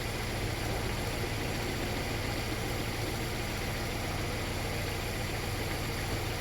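A Suzuki SJ Zook engine with a blown head gasket and a misfiring cylinder 2 idles in a steady, noisy rumble, continuous and close, with no talking.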